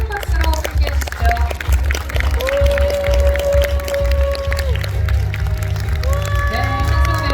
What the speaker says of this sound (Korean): 여러분 계속해서 큰 박수로 함께 해주시죠.